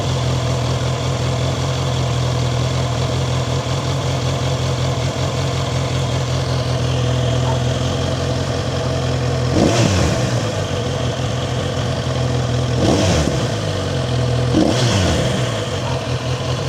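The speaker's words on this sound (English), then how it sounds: "this is the sound I like about it." A Kawasaki Z900RS motorcycle idles with a steady low rumble, then three sharp throttle blips rise and fall near the end, close and loud with no talking.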